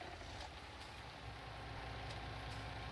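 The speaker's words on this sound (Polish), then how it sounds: "pada deszcz" Steady rain in the Farming Simulator 19 farming game, a constant dense patter with a low vehicle rumble underneath and a few faint clicks.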